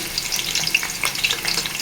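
Sliced onion sizzles steadily in hot oil for a fish curry, a close, dense crackling hiss with small pops that stays loud and even throughout.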